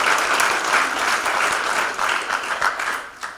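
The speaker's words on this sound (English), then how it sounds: "you can clap for her real quick" Brief, dense applause from an audience in a village theatre during a mayor's installation and community service awards ceremony, steady and fairly loud before thinning slightly near the end.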